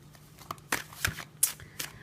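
Tarot cards being shuffled by hand, a quiet close run of soft riffling bursts and taps spaced irregularly, with no voices.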